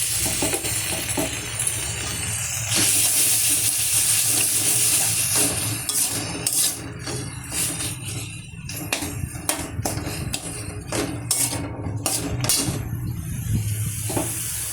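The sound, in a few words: spices sizzling in a pan on high gas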